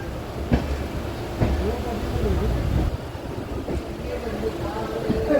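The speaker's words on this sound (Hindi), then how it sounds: "सामने से आ रही है जमालपुर गया फास्ट मेमू" A Jamalpur–Gaya fast MEMU passenger train approaches on the line near Gaya, heard from aboard another passenger train as a steady rumble with periodic thumps and rail clatter throughout.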